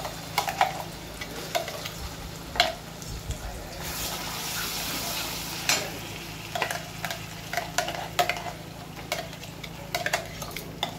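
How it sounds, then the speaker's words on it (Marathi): Masala fries in 2 to 3 spoons of hot oil in a kadai for a prawn curry, a soft continuous sizzle punctuated by regular spoon taps and scrapes against the pan, with a low steady hum beneath. "तेल गरम झालं आपण हा मसाला त्याच्यात परतायला टाकू."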